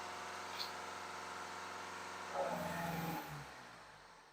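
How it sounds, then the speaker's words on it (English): A BMW engine in limp mode, logging an intake air mass leak fault, idles steadily and then revs briefly during a diagnostic test, a short rise in engine tone that falls back to a low idle. "Engine is revved up again."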